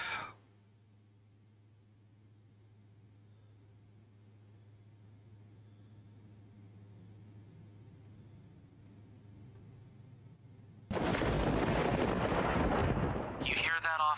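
A thunderstorm rolls in the distance within a video game: a long stretch of faint, low rumbling, then a sudden loud, broad crash of thunder near the end.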